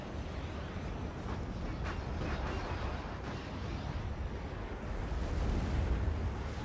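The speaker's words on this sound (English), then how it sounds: "They're just completely destroying the building." Explosions tear down a building in the real-time strategy game Act of Aggression, heard as a continuous dense rumble of blasts and roaring debris at a steady level.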